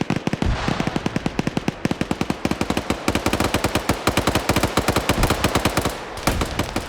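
Rockets and rapid gunfire in a PvP video game match crackle nonstop, a dense, loud volley of sharp bursts in quick rhythm with heavier impacts mixed in, no voices over it.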